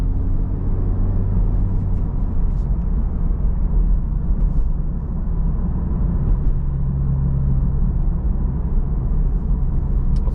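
An FL5 Honda Civic Type R engine with its turbo drones steadily while driving, a loud, continuous low rumble with road noise and no talk.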